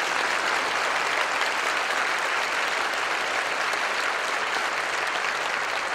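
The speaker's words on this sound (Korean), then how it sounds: "우리 뜨거운 박수로 목사님 맞이하겠습니다" A church congregation gives a warm round of applause to welcome a visiting pastor. The clapping is loud, dense and sustained, with an even texture and no speech over it.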